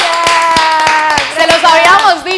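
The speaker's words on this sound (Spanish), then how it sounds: "Otro aplauso." Audience clapping at a Spanish-language talk show, evenly spaced sharp claps in a steady beat under a loud sustained voice.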